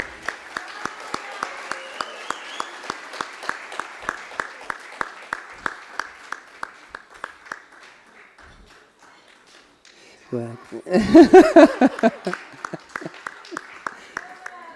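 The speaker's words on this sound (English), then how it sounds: "Keep the claps going, keep the claps going." At a university awards ceremony, slow, rhythmic, evenly spaced claps ring out and gradually fade. A short burst of louder voices and noise follows, and then the steady clapping resumes.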